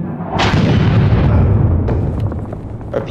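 A frag grenade blast in Six Days in Fallujah erupts as a loud, broad boom and rolls into a rumbling tail that fades over a few seconds, with a smaller crack near the end.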